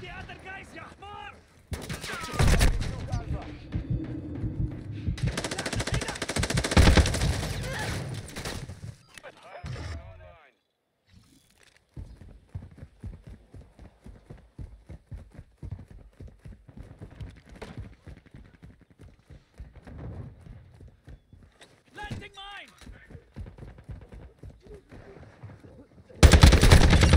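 Video game gunfire from Call of Duty Modern Warfare 2 in a Domination match at Santa Sena Border Crossing: dense bursts of automatic fire, loud and sustained early, then scattered shots with game voices talking over them.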